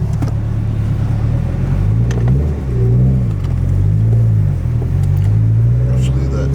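A Subaru fitted with rubber tracks in place of tires, with a six-puck clutch, rumbles steadily through the mountains. The engine hum is low and continuous and rises in pitch now and then as it accelerates, heard from inside the car.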